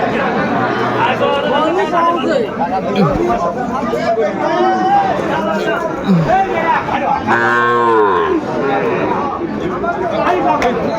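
Cattle, bulls and heifer calves low with deep, drawn-out moos over busy crowd chatter and people talking nearby in a noisy livestock market at Ambari, Dinajpur.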